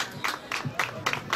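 A live audience at a television fiction festival in La Rochelle applauds arriving guests, with dense, continuous clapping from a crowd heard at moderate distance during a brief stretch.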